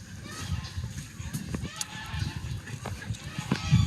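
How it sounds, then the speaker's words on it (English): Ducks and geese calling on a farm, scattered honks and quacks rising over rustling and footsteps, with a person talking nearby at times. "Can you guys hear the ducks?"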